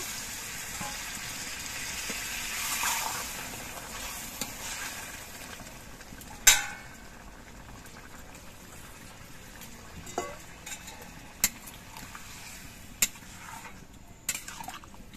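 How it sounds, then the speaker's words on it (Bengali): Chilli chicken gravy simmers and bubbles in a pan with a soft, continuous sizzle, broken by a few sharp clicks of utensils against the pan. "এবার ঝোলটা ফুটিয়ে নিতে হবে কিছুক্ষণ।"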